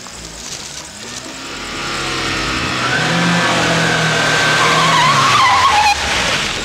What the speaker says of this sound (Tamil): மின்னல் வேகத்துல ஒரு கார் வருது.